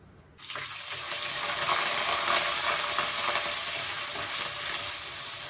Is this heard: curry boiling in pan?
yes